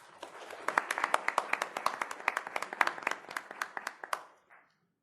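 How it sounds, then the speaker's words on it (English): A small group applauding at a college board of trustees meeting, a sparse run of distinct, fairly close hand claps in a loose irregular rhythm that builds briefly and then tapers off to silence. "Let's give her another round of applause"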